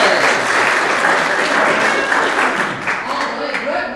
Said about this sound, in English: a round of applause for Brett Ramsey